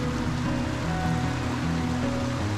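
North Fork Salmon Creek outside Concanoli, Washington, flows in a steady, continuous rush of running water, close and fairly loud, with no talking.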